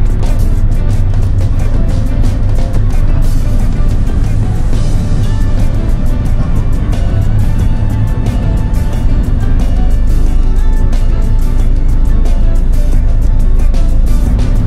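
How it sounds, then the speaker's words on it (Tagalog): Road traffic in San Pablo, Laguna, rumbles continuously and loudly, with engines droning close by and a heavy low-end hum throughout, no speech heard. "Traffic na sa San Pablo."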